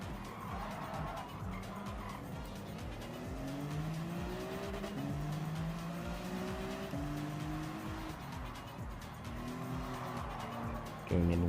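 Tires squeal as the brakes lock on a BMW M3 in the Gran Turismo 7 racing game, a long wavering screech over the loud, rising and falling engine note, close and sustained.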